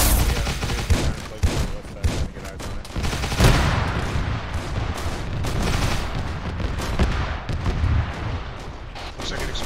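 In ARMA 3 with Warhammer 40k content, heavy gunfire crackles in dense volleys, with booming blasts and sharp cracks at close and middle range and no break.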